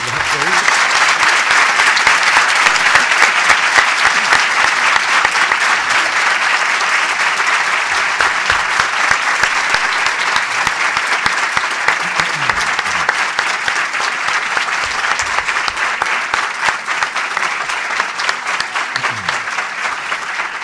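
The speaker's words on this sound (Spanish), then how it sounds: "El aplauso merecido para Rodolfo Barili" Sustained audience applause after a university talk and debate, a dense, even roar of many hands clapping that continues steadily for about twenty seconds.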